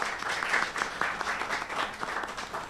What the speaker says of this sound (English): let's clap for the production team again